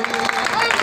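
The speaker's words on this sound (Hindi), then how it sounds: "जोरदार तालियां।" Loud applause from a crowd at a Hindu religious gathering where a successor swami is proclaimed, a dense, steady patter of clapping lasting under a second and mixed with voices and a tonal background.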